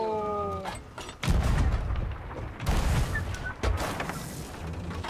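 Gunfire and cannon-like booms in the Sea of Thieves pirate video game, several heavy blasts at irregular intervals, loud and close with a rumbling tail.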